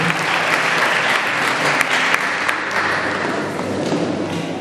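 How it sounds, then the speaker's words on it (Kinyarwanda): Guests at a Rwandan wedding reception applauding loudly, a dense, sustained burst of many hands clapping close by with occasional heavier thumps and some crowd murmur mixed in. "tubongere amashyi menshi cyane"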